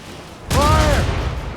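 Ship cannon fire in Assassin's Creed Rogue during a naval battle: a sudden loud booming blast halfway through that rolls on with a sustained rumble, with a faint tonal whistle over it.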